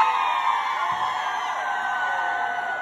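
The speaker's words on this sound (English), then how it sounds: "All the women scream." A crowd of women screaming and cheering at a Montreal Carnival weekend party, a steady sustained roar that holds at even loudness throughout.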